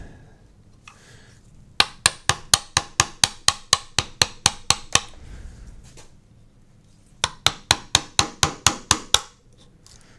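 Wood being split for a kuksa cup, working with the grain: two runs of sharp, evenly spaced knocks, about a dozen strikes in each, loud and close, with a quiet pause between them.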